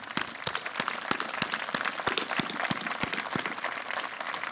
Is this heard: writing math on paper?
no